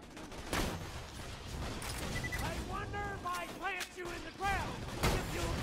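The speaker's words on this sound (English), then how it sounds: "Now they shoot back." Enemy gunfire in the shooter Borderlands 2 during Fink's Slaughterhouse arena, rapid volleys of shots and impacts layered with whining projectile sounds, continuous and busy for several seconds.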